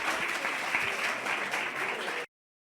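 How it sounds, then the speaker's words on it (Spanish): An audience at a church gathering applauds steadily for about two seconds before the sound cuts off abruptly. "Vamos a dar un fuerte aplauso."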